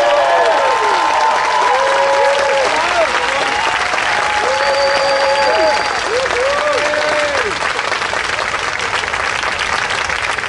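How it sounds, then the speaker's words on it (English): Crowd applause at the 2016 San Diego Pride Rally, a loud sustained roar of clapping with cheering and whistles riding over it, steady throughout. "Big round of applause for Reverend Harris's and very, very true words, very real words."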